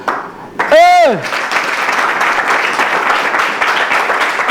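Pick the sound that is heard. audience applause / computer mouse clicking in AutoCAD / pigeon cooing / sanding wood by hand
audience applause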